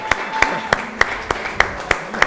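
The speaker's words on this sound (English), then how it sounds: "Round of applause." Applause at an awards ceremony: a small group clapping in a steady, evenly spaced rhythm, sharp individual claps standing out at moderate volume.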